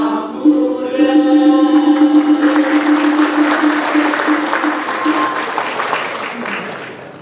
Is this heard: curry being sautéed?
no